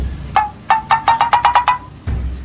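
Mobile phone ringtone playing a quick run of bright electronic tones, about ten short notes with a brief gap before the next ring starts, loud and close with no talking.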